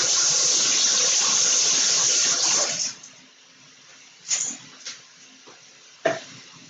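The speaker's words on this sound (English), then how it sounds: "So I'm just going to rinse my hands real quick" Tap water runs in a steady loud gush while hands are rinsed, then cuts off after about three seconds, followed by a few brief splashes and drips.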